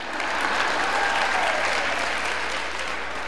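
Audience at a talk clapping in response to a show-of-hands question, a broad, sustained wash of applause from a sizable crowd, steady and fairly loud before fading slightly at the end.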